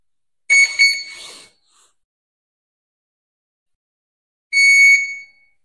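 Quadcopter motor ESCs emit calibration beep tones: a short cluster of bright electronic beeps at the start, silence, then another sustained beep near the end, loud and close with no talking.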